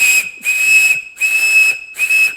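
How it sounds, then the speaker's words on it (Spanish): A roe deer horn whistle, blown at the top end, gives four loud, steady high-pitched tones with a breathy hiss, each lasting about half a second and separated by short pauses. "Otro silbato, como es este que se sopla superior,"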